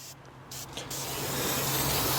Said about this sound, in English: We are going to lube the inside, only because this is plastic and rubber.